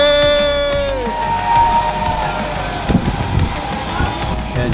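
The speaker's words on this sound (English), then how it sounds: "it is customary to scream and holler at the other ship as they pass by" Cruise passengers aboard a ship leaving New Orleans yell and whoop at a passing cruise ship about 100 yards away, scattered shouts and cheers over a droning horn-like tone and ship rumble, close and fairly loud.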